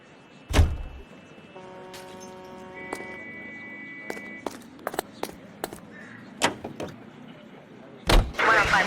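In the video game L.A. Noire, a car door thuds shut, the engine cranks and starts, and the car pulls away, with several sharp clicks and bumps over a low engine hum and no talk.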